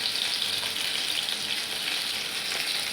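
Steady close sizzle of spices frying in a hot pan, a bright continuous hiss with no pauses and no talking.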